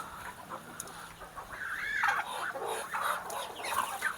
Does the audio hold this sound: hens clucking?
yes